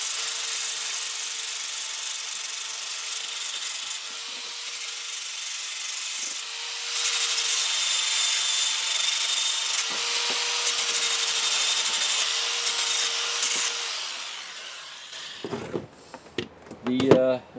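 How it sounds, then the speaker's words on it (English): An electric sander with sanding pads works a new wooden adze handle, a continuous rough rubbing hiss that swells and eases for most of the stretch, ending in a few knocks and handling noises. "And then use an electric sander, sanding pads."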